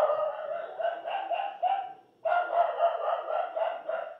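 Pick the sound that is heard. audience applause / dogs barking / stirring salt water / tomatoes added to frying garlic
dogs barking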